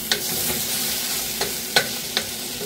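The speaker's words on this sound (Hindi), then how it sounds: "एक मीडियम साइज के टमाटर को इस तरह से बड़े बड़े पीसेस में काट कर ले लिए इसको डाल देंगे इसमें।" Large pieces of a medium tomato drop into frying spiced jackfruit, a continuous close sizzle punctuated by a few sharp clacks and scrapes.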